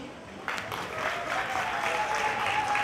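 Parents at a school year-end evaluation ceremony break into sustained applause for the schoolchildren, a dense steady clapping that builds after a brief quiet start.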